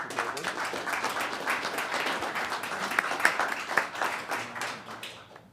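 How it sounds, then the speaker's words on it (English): Town council meeting audience applauding after the Pledge of Allegiance: a round of brisk clapping from a modest crowd in a hall, steady for several seconds before tapering off, with faint voices beneath. "How about a round of applause?"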